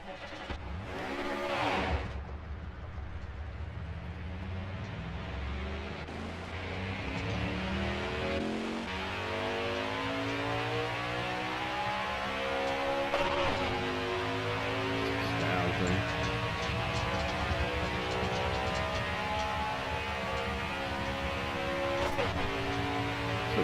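Race car engine droning steadily around Daytona in NASCAR Heat 5, a sustained mid-pitched roar with gear shifts rising and settling across the run, loud and continuous with no talk over it.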